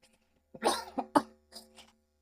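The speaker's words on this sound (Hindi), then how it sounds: "खांसी हो गया है" A run of several short, harsh coughs in close succession, loud and close, with brief pauses between bursts and no talking.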